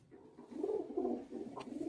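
Domestic pigeon softly cooing, a few low throaty rolling coos close by in a quiet setting.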